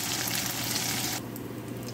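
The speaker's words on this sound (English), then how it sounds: "Okay, now I've done frying the rice cake." Steamed rice cake being stir-fried in a pan, a loud close sizzle and crackle that suddenly drops to a quieter, softer frying hiss about halfway through.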